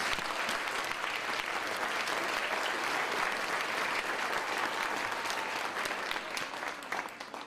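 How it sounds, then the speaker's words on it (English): At a 2011 college of nursing commencement, an audience applauds the award winners with sustained, even clapping heard from a distance, tapering slightly at the close. "Let's give all the award winners a round of applause."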